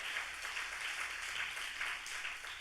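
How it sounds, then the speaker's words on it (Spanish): A church congregation applauds during a Spanish-language sermon, giving soft, steady clapping from a distant crowd with an even, diffuse texture and no speech over it. "Dele un aplauso a Cristo, por favor."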